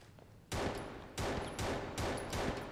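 Four heavy shotgun blasts in a free shooter video game, each a sharp, loud report with a trailing decay, fired in a quick, slightly uneven rhythm with no talking.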